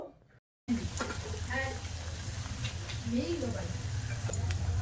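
A spoonful of batter for orange (komla) malpua drops into hot oil and fries with a steady bubbling sizzle that holds near and fairly loud after a short quiet start, with a voice talking over it.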